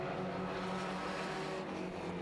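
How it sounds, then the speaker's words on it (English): A Rookie Bangers stock race car, number 83, struggling for grip, its engine giving a continuous, fairly distant roar with no break. "Lots of screaming going on from the number 83 car there"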